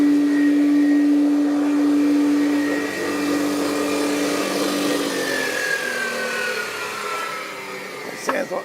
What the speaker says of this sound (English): Sounds like there's something stuck in that impeller